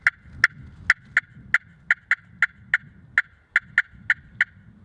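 Rapid, irregular run of sharp, high clucks from a turkey friction call, excited cutting with a dozen or more bursts over a soft background.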